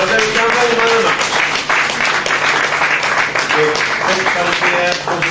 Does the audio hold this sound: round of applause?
yes